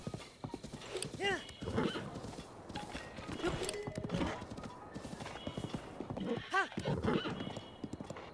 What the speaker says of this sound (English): The horse won't turn.